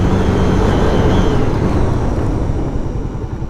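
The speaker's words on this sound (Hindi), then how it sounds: "एक और बार हार्ड ब्रेकिंग लेते हैं।" Honda motorcycle under hard braking on the road, a loud rushing roar of wind and engine noise that holds steady, then eases off slightly near the end as the bike slows.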